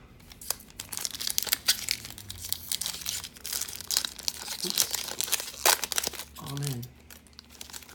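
A Yu-Gi-Oh Legendary Duelist booster pack wrapper crinkled and torn open up close, bursts of crackling foil across several seconds, with someone speaking briefly.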